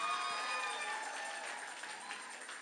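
A church congregation applauds during a thanksgiving praise service, steady distant crowd clapping that stays fairly faint and gradually tapers off, with no voices standing out.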